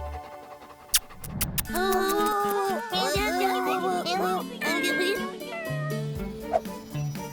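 A cat meows repeatedly, drawn-out and wavering calls close by, amid clatter, sharp knocks and some voices in the background.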